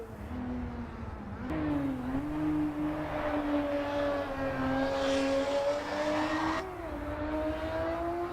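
A race car engine in Assetto Corsa EVO drones at high revs for several seconds, its pitch dipping and climbing slightly, with no voices.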